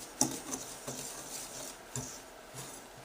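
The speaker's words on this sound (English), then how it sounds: "take your whisk and just mix it all together" A whisk scrapes and taps around a bowl mixing bath bomb ingredients, quiet irregular clinks and swishes at close range with no talking.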